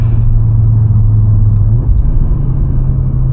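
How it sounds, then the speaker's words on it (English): A 2025 Audi RS3 facelift with a 400 hp engine and seven-speed S tronic gearbox is driven hard, giving a loud, close, deep engine drone. The pitch drops briefly partway through, then the drone carries on. "But man, this car is... oh, jeez, man. Listen. What a car."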